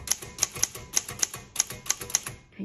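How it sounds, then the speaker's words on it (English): Keys strike on a 1956 Underwood Universal manual typewriter in a quick run of about ten sharp metallic clacks, close and crisp, ending with a softer mechanical thunk. "Okay, let's go ahead and start typing."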